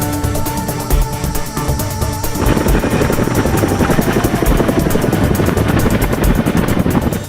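A military helicopter in a combat medical evacuation roars close and loud, its rotor thumping in a steady rapid pulse over a dense engine whine throughout, with no voices.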